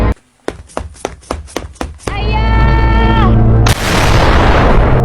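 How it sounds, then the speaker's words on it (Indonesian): Gunfire in a dramatic film scene: a rapid burst of about seven sharp shots, followed by a sustained tonal blare and then a loud noisy blast, all close and forceful. "Ada tembakan"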